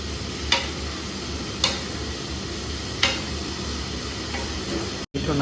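A pan of vegetable curry (shaak) with curry leaves sizzles steadily and loudly up close, a constant frying hiss broken by a few sharp clinks of a spoon against the pan.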